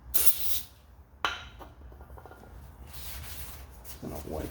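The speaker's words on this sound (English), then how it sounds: "brake cleaner." Brake cleaner from an aerosol can hisses in a short, loud burst onto a brake part's surface, followed by a second brief spray and quieter rubbing and handling noises.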